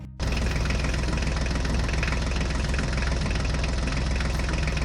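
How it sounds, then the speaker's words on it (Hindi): A tractor engine starts up abruptly and then runs at a steady, loud idle with a dense chugging rumble, close by and continuous with no talking. "चलो गोकू, जल्दी से ट्रैक्टर गाड़ी में बैठो, हमें जल्दी चलना होगा।"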